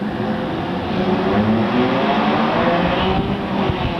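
A pack of race cars accelerates together at a green flag start, a dense, loud roar of many engines layered over one another, steady and close.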